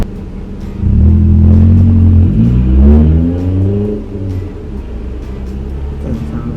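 A loud car engine in need of a muffler, revving up close with a deep, raspy rumble that climbs and then falls back to a rough idle.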